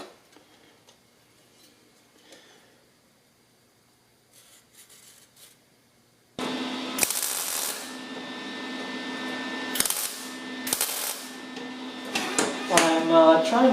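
Welding on a 1976 Mazda RX car's front bumper panel, a loud continuous crackling buzz that starts abruptly after a quiet stretch of faint ticks, with short pauses and restarts between passes on alternate sides.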